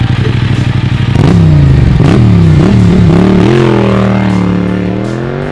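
A Yamaha XSR 700 Xtribute motorcycle pulls away, its loud, close engine revving and climbing steadily in pitch through the gears with no talking over it.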